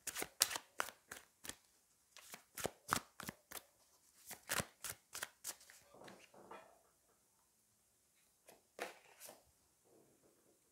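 Tarot cards are shuffled and drawn, a rapid series of soft, close card snaps and flicks that slows and grows sparse toward the end, quiet and without speech.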